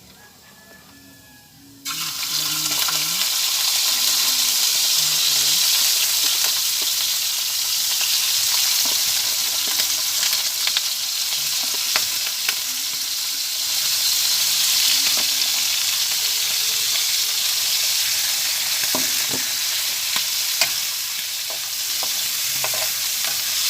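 Garlic browns in hot oil for goat liver adobo. After a quiet start, a loud, continuous sizzle erupts and holds steady, with occasional spoon scrapes and taps against the pan.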